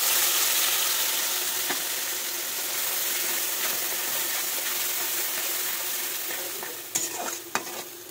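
Potatoes and tomato fry in a pan with a mustard and chili paste, making a continuous close sizzle broken by occasional clinks and scrapes of stirring toward the end.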